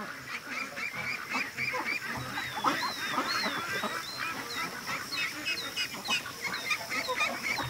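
Ducks on a lake give repeated honking, quacking calls, a busy flock calling close by over an outdoor background, with no talk.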